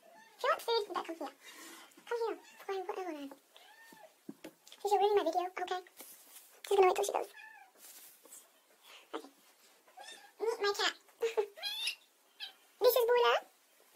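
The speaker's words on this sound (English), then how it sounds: "My cat's here." A pet cat meows a few times indoors while someone talks through a hijab pashmina styling demonstration, the short cries partly buried under her voice.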